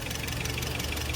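Rebuilt car engine idling with a steady, close ticking and knocking rhythm, running continuously with no other sounds on top.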